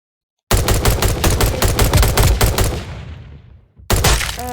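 A gun in the Roblox video game fires in a rapid, evenly spaced burst of sharp shots that trails off and fades, then a fresh burst starts after a brief pause.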